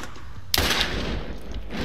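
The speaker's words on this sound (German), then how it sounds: "Wer schießt denn da jetzt halt mit einer Sniper auf uns?" A single loud sniper rifle shot cracks out in the video game Borderlands, followed by a long, rumbling echo that fades slowly beneath continuing background game noise.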